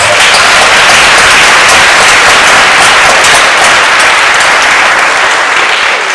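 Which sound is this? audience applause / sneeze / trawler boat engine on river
audience applause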